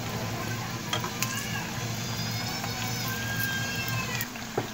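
Samosas deep-fry in hot oil with a dense, continuous bubbling sizzle, close and steady, with a few faint sharp clicks scattered through and no talk.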